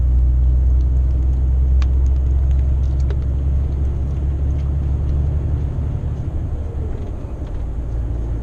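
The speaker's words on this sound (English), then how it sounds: "Take the foot off the pedals and the truck will do its work." A truck rolls along the road with a steady, deep engine rumble and drone heard from inside the cab, continuous and fairly loud, with no speech.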